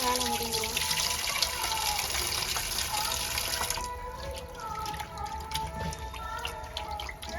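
Tap water runs steadily into a sink while fish is rinsed, a continuous splashing stream with occasional clatter, close by.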